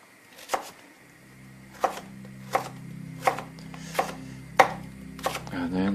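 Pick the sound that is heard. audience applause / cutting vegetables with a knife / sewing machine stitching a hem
cutting vegetables with a knife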